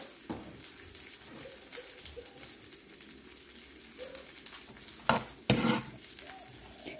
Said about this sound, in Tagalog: nilagay ko na yung onion at saka bawang, sinabay ko na siya.